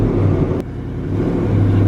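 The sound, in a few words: 2018 Ford Mustang GT engine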